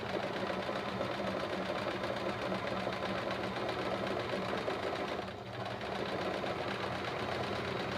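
A sewing machine runs steadily through free motion quilting on a quilt border, a continuous close mechanical whir with fast needle rhythm that barely dips for a moment before resuming.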